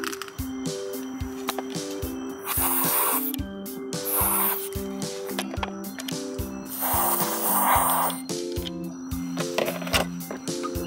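Squeaky, creaking clicks from a car seatbelt buckle being worked back and forth in a company car, with short bursts of aerosol lubricant spray hissing between the repeated rhythmic creaks, close up.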